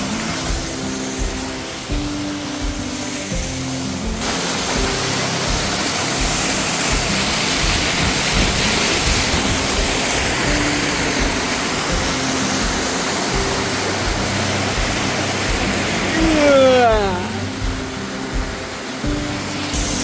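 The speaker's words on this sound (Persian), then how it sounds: "آبشار خیلی قشنگه دیگه، واقعا عالی و زیبای" A waterfall in Perth, Australia roars as a loud, steady wash of rushing water that fills the whole clip, with a brief rising whoosh near the end.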